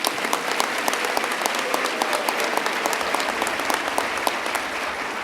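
Audience applause at a 2014 state executive budget presentation, a steady, dense wash of many hands clapping that holds evenly for the whole stretch, fairly near and full.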